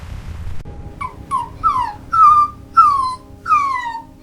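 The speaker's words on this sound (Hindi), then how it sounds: "अचानक उसे सड़क के किनारे से हल्की सी कराहने की आवाज सुनाई दी" An injured dog whimpers by a roadside, a series of about six rising-and-falling whiny yelps at a steady pace, close and loud with no talking.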